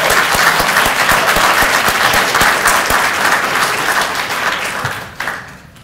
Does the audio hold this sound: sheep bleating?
no